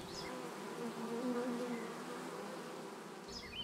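Bees hum steadily inside a 15-frame queen-rearing hive, a soft, even buzz with faint rising and falling tones, heard alone and without speech.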